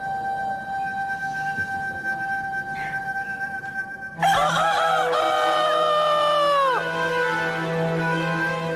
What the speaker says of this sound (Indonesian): Akulah ayam jago, jagonya Cinde Laras